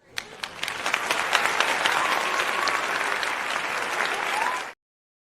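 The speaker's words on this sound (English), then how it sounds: "More applause." Applause on a late-night radio show, a few separate claps building quickly into a full, steady round that cuts off abruptly, with faint voices mixed in.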